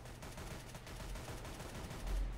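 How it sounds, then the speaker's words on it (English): Gunfire in the video game Counter-Strike: Global Offensive, a dense rattle of shots fired from above, running continuously and fairly loud with no talk over it. "that guy's shooting from above"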